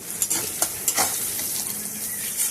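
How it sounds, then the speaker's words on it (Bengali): Chopped onion frying in oil for a fish curry, a close sizzle punctuated by several quick spatula scrapes early on, then settling into a softer steady fry. "পেঁয়াজটা যখন একটু হালকা ভাজা ভাজা হয়ে যাবে"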